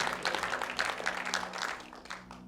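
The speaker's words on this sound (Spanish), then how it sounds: "denle un fuerte aplauso al Rey de Reyes" A brief burst of crowd applause for the King of Kings at a church service, a dense, moderately loud patter of many clapping hands that fades slightly toward the end.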